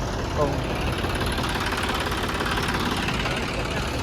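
A tractor engine idles with a steady, rumbling drone that stays even and continuous throughout.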